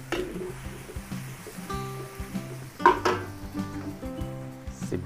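Garlic and ginger sizzle in a pan for goto lugaw, a soft steady frying hiss with occasional clinks and scrapes of a utensil against the pan, with no talking.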